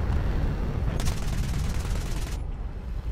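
Aircraft guns in a video game fire a dense, rapid burst of rounds over a low engine drone, the rattling volley starting partway in and cutting off before the end.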